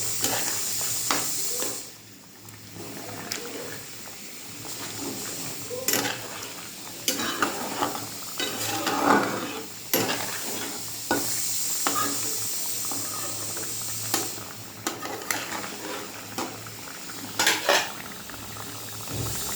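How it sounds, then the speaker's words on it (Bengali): A spice tempering sizzles and bubbles in a pan over mashed food, a continuous close hiss and simmer broken by repeated sharp clinks and scrapes of a utensil stirring. "ফোড়নটা দিলাম, ফুটে উঠলেই আমি নামিয়ে দেবো।"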